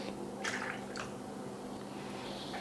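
A few short splashes and drips close by as vinegar is poured into a bowl, heard as brief bursts over a steady low background hum.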